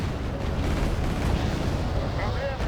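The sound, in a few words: Nanuchka corvette firing its weapons, Wargame Red Dragon video game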